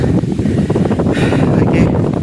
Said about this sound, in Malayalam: കാറ്റെന്ന് പറഞ്ഞാൽ ഒരു രക്ഷയില്ല